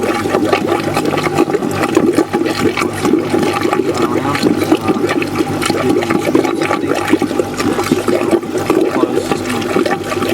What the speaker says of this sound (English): You can see the air comes off the pipe, forces water through, jumps into the top nice and aerated